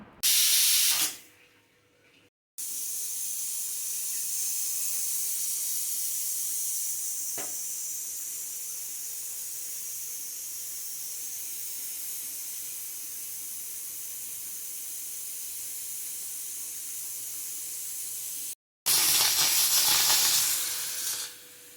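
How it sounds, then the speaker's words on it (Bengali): A pressure cooker lets off steam in a home kitchen during vegetable cooking: a long, steady, loud hiss running for most of the clip, with brief breaks at the start and near the end. "এখানে আমি সিটি দিয়ে নিচ্ছি দুটো তোমরা চাইলে একটা দিতে পারো"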